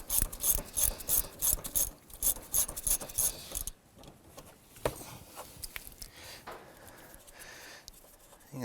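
Ratchet turning a nut on the rear shock mount of a 2006-10 Honda Civic, a quick run of loud, rhythmic clicks followed by slower, quieter scraping and occasional taps, close up with no talking.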